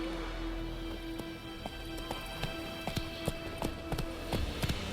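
Roach, a horse in The Witcher 3 video game, clip-clops along in a steady run of hoofbeats, moderately close, with a low rumbling ambient background and no speech.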